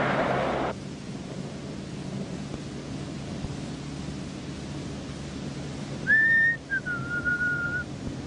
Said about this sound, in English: knock it off, will you? Knock it off. Knock what off? No whistling.